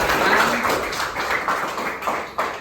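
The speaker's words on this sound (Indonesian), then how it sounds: "Kasih tepuk tangan untuk kelompok 4" A classroom of students clapping for a presenting group, a loose patter of hand claps with uneven bursts and a few sharper claps, fairly close, with some murmuring voices underneath.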